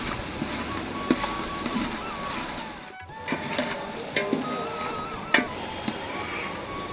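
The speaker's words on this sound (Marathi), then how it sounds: "आता मोरीची तडका मस्त बसला" A tempering sizzles in a large pot of pav bhaji cooked for two hundred people, a continuous broad hiss broken by a few sharp clinks and scrapes, with no voices.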